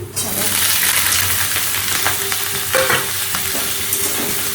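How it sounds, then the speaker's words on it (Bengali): Garlic browning with carrot and onion in a frying pan gives a steady, close, loud sizzle throughout, broken by occasional scraping and clinking as the mix is stirred. "রসুনটাকে লাল লাল করে নিয়েছি"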